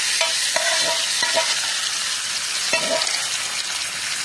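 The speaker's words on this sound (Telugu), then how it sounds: "అలాగే కరివేపాకు కూడా వేసుకొని కట్టేసుకుందాం. తాలింపుని పచ్చడిలోకి వేసేసుకుందాం." Hot tempering with curry leaves is stirred into ridge gourd and red chilli chutney: several sharp spoon scrapes and clinks over a bright, steady sizzle, close and fairly loud.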